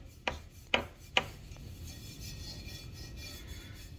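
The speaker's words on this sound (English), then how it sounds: "Well, that's how it feels when you rub this and it's not clean." A hand rubs a dirty exhaust tip on a Honda Ridgeline in three quick, sharp rasping strokes close to the microphone, followed by quiet background.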